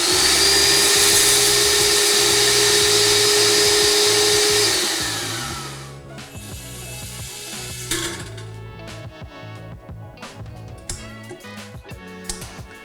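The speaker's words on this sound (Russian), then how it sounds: "Сейчас мы приготовили немного сырья, чтобы продемонстрировать, как работает загрузчик." A polymer raw material loader runs with a loud steady motor whine and airflow that winds down, followed by a rattling, clattering stretch of plastic pellets and mechanism knocks, close by with no speech.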